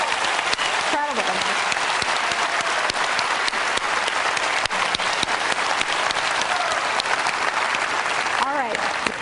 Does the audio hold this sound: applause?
yes